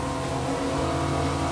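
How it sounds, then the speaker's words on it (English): Stern drive engines on a Scanner 1200 HT flybridge maxi RIB roar at steady high revs, a loud continuous droning hum close by with no voices. "Plus, listen to how they roar. Let's start revving them up."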